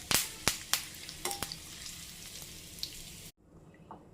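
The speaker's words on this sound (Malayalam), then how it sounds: "ഇതിലേക്ക് ആദ്യം ഞാൻ കുറച്ച് കറിവേപ്പിലയാണ് ഇട്ട് ഫ്രൈ ചെയ്തെടുക്കാൻ പോകുന്നത്." Curry leaves dropped into hot sunflower oil give sharp, loud crackles and spits at first, then settle into a fainter, even sizzle that cuts off abruptly.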